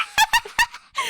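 A voice imitates a rabid pigeon, making a series of sharp, high squeaky squawks in quick bursts, with a brief pause before one last strained cry.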